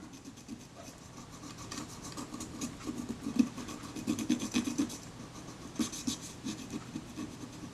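A Kodak Retina Ib camera body casting is scrubbed with naphtha to lift adhesive residue, producing close, soft, uneven scratchy rubbing strokes that come and go in short bursts.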